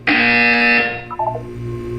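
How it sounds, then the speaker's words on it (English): A loud, sustained electronic buzzer tone in the Portal 2 video game sounds for about a second, then fades into a brief descending chime with a low hum beneath. "You will hear a buzzer."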